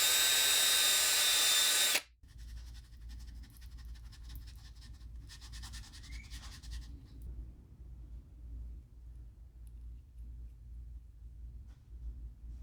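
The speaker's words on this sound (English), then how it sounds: "So I'm going to re-drill our holes here" A power drill whines loudly for about two seconds as it re-drills epoxy-filled holes in a wooden shad glide-bait fishing lure, then cuts off, leaving a low steady hum.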